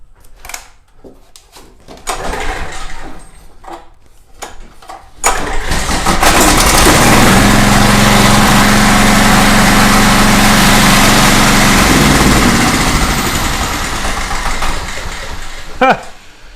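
A portable generator under repair is pulled over with a couple of sputtering attempts, then catches and roars into a loud, steady run close by before slowing near the end; a person talks during it.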